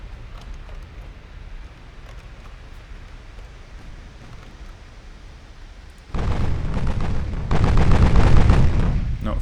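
Battleship turret guns in the Ultimate Admiral: Dreadnoughts naval game (France vs UK battleships) fire in a heavy, booming salvo that erupts loudly partway through, following a low rumbling battle ambience.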